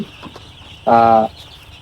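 A seven-day-old chicken in a winter brooding shed gives one loud, close, tonal call lasting about a third of a second, set against a quiet background with faint chirps.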